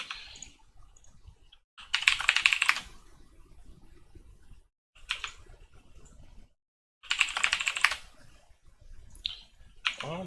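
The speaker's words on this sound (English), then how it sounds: "If I type in here," Typing on a computer keyboard at a desk, coming in two dense bursts of rapid clicking keystrokes with sparse single key taps between them, close and fairly quiet, with no voices.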